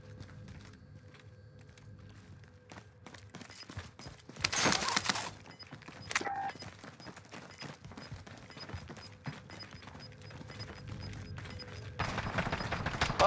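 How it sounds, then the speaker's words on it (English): Gunfire in the Call of Duty: Warzone battle royale on the Verdansk map, a loud burst of shots in the middle followed by another sharp crack, set against game ambience and clanking mechanisms. "I hear gunfire."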